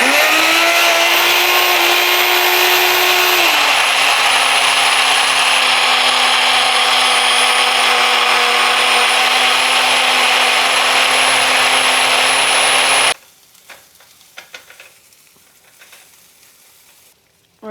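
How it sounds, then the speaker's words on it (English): A blender runs loudly and steadily for about thirteen seconds as it purees ingredients for a green sauce with shrimp, its motor pitch dropping slightly early on, then cuts off, leaving faint clinks and handling noises. "we're gonna go ahead and blend it."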